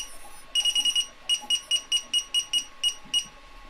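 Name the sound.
electronic buzzer sounding after battery connected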